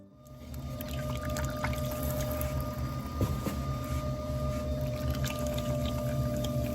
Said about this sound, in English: You even get some bonus wheel throwing ASMR.